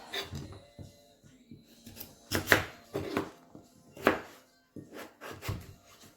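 A knife chops hard vegetables on a board for ratatouille in a series of uneven, close, sharp knocks with short pauses between bursts; no talking.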